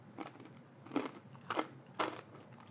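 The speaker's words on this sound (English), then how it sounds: "It's very crunchy. It takes longer to get through." Bites into crunchy triple-dredged fried chicken give four crisp crackling crunches spaced about half a second apart, close and fairly quiet, with no talk.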